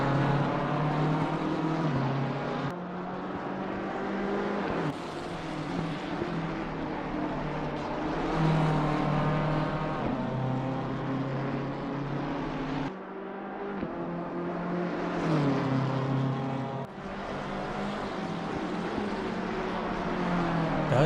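GT cars racing around the Brands Hatch circuit in a Pro/Am/Rookies round of GT Europe, a steady loud engine drone with shifting pitch as cars pass, continuous for the whole stretch with brief dips.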